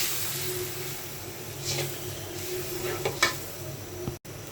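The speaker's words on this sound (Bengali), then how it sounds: "ভালোভাবে মশলাটা কষিয়ে নিচ্ছি।" A spice paste of turmeric and chilli powder with a splash of water fries in a pan with a soft, steady sizzle, broken by a few sharper scrapes and clinks of stirring. It sounds close and fairly quiet.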